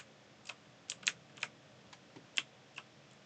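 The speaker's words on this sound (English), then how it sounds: "That's picking up the keyboard as well." Keys on a computer keyboard clack in scattered, uneven taps, about a dozen quiet strokes with gaps between them, close by in an otherwise quiet room with no voices.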